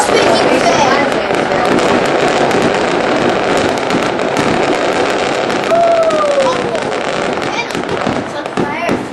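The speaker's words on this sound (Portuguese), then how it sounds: "Só que, Laércio, a bomba, ela sobe lá em cima." Fireworks burst continuously at a 2010 New Year's Eve celebration, a dense crackle with one rising whistle near the middle. People chat close by throughout.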